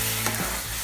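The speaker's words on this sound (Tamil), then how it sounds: "நல்லா மிக்ஸ் பண்ணி விட்டுக்கலாம்." Semolina and water being mixed in a hot pan for rava cutlets, a dense steady sizzle with a brief stirring scrape, close and loud with no voices.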